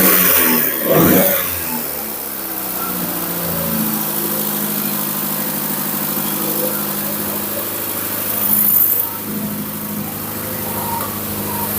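A junkyard Porsche engine, freshly installed, runs steadily at a rough idle with a continuous mid-pitched drone, briefly revving near the start and again later, burning off oil and crud.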